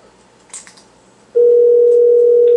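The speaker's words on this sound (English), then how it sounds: "I'm trying calling her home phone again." A home landline telephone gives a steady, loud dial tone that starts partway through, after a few faint clicks and handling noises.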